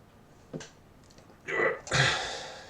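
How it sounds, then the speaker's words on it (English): A person sneezes close to the microphone indoors: a short intake gasp, then a sharp loud burst with a trailing exhale, preceded by a faint breath. "I'm gonna sneeze."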